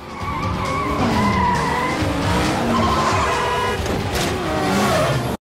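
A car doing a burnout, tires skidding and squealing continuously for about five seconds, loud and dense with engine roar underneath, cutting off abruptly at the end; no talking.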